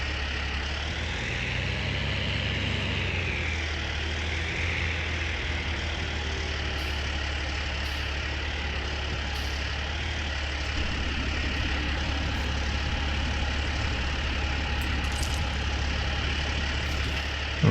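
Tractor engine in Farming Simulator 19 runs at a steady idle throughout, a constant low rumble with a continuous drone, close and even in level, with no talk over it.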